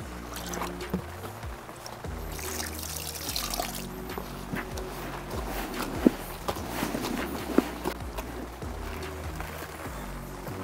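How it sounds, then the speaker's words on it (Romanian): Water is poured into a carp fishing groundbait mix for cold water, a steady trickle and splash with soft handling thumps and a couple of sharp clicks, close by and without talk. "Să mai adăugăm puțină apă."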